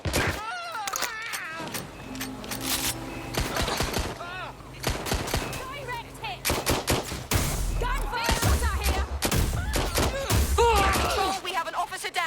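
Repeated bursts of gunfire and automatic weapon volleys in the video game Watch Dogs Legion, loud and close, mixed with shouting voices and thuds throughout.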